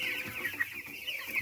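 Soft clucking and cheeping from a group of young chicks in their bedding close by, several overlapping calls in quick succession.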